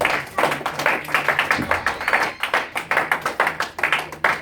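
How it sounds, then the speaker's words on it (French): A church congregation claps in quick, steady rhythm with voices cheering and shouting underneath, a dense, lively burst of praise filling the room throughout. "Est-ce qu'on peut acclamer le Seigneur?"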